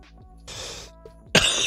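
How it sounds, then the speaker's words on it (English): Coughing bursts out close to the microphone: a couple of short throat-clearing coughs, then a louder harsh cough near the end, with soft background sound from an NBA 2K23 basketball video game. "Oh my God, I can't stop coughing."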